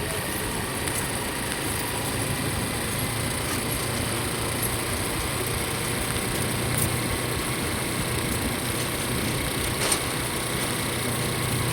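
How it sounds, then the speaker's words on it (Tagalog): A large vehicle's engine runs in a constant, even drone with no breaks, steady and fairly loud throughout. "Lalaki ng sasakyan."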